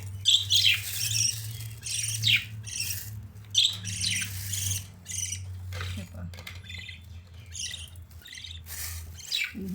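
Frightened pet birds squawk and chirp in sharp, repeated bursts close by, with brief quieter gaps between the calls.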